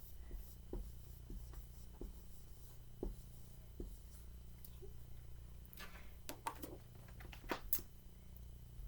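Pen or pencil writing a word by hand, heard as soft, close scratchy strokes in short bursts over a steady low hum, with quicker scribbles toward the end.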